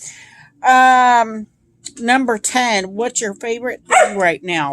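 A pet dog barks and yips in a loud burst at the start, then a person talks over it.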